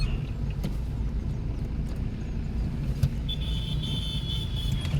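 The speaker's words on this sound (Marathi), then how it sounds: "थोडासा एक्सिलेटर घ्या. बघा एक्सिलेटर घेतला, आपली बघा 20च्या स्पीडला आलो आपण. त्या ठिकाणी सेकंड गिअर घेऊ." Car pulling away at low speed with steady engine rumble, a brief change around the gear shift into second as it reaches about 20 km/h, then a thin whine rising from the drivetrain; close and continuous, no talk.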